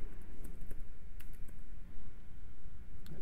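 Code being typed on a computer keyboard, with soft, irregular key clicks under a low room hum and no talking.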